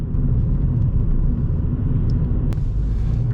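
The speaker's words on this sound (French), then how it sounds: "On va accélérer un petit coup quand même. Que tu vois la puissance du V6." A V6 car engine in town gives a steady, loud low rumble throughout, with a brief sharp click partway through; no voices.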